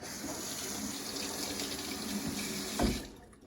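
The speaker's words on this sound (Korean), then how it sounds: "일단 헹궈 보도록 하겠습니다" Water runs steadily from a salon tap while freshly dyed blue hair is rinsed, a continuous close hiss with a brief splash near the end as the flow tapers off.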